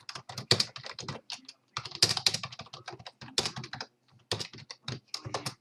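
Rapid, irregular clacking of keys on a computer keyboard, typed from memory by a blind woman, close and steady with short pauses between bursts.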